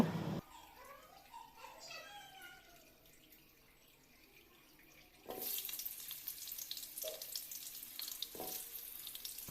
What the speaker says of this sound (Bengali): এদিকে আবার কড়াইয়ে তেল দিয়ে দিলাম। এবার আলুগুলো ভেজে নেব।